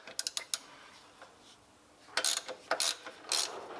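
A 3/8-inch ratchet with a 12mm socket works the belt tensioner on a Mazda MX5 Mk2, giving quick clusters of sharp, close clicking in bursts separated by pauses.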